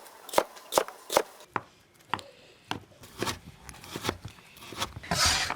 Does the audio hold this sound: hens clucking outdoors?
no